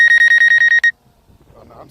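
A DJI Mavic Air 2 drone gives a rapid series of loud, close, high-pitched electronic beeps in a steady rhythm that stops abruptly, followed by faint background noise.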